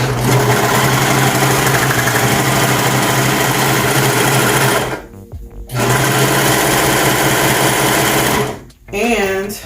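Brother sewing machine doing a test run, a loud fast mechanical whir that runs steadily, stops briefly twice, and starts up again.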